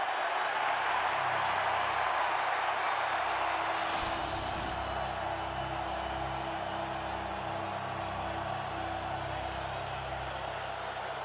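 A large football stadium crowd in Seattle roars steadily as the Seahawks defense pressures the Buccaneers offensive line, a dense, wide wash of cheering that holds loud throughout.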